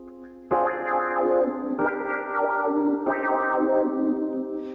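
Audio run through the Blowdio saturation plugin, giving a warm, saturated tone with a lingering tail; repeated sustained, harmonically rich notes sound close and steady, with no talking.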